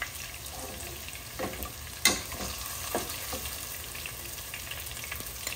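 Potatoes fry in a pan with a soft, steady sizzle and a few sharp spatula clinks and stirs, close and fairly quiet.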